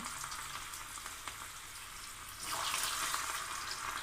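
Bitter gourd slices fry in hot oil for chips, making a steady, close sizzle that swells louder and brighter halfway through, with no talking.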